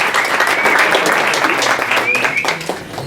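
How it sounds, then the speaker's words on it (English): Loud, dense audience applause fills a room after a candidates' forum for the City of Sydney elections, sustained clapping throughout with a few voices and cheers mixed in. "Please give Sebastian a round of applause for moderating tonight."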